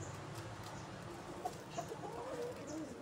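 Chickens give soft, scattered clucks against a quiet, low outdoor background, faint and a little distant, with a few short chirpy calls.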